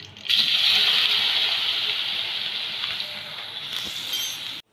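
Taro (arvi) pieces drop into hot oil with curry leaves and spices, bursting into a loud, steady sizzle that holds for several seconds before cutting off.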